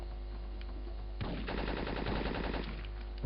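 Rapid machine gun bursts in the PlayStation game Syphon Filter 3 erupt suddenly after a quiet hum, sustaining a dense rattling stream of shots for over a second before cutting back to the low background drone.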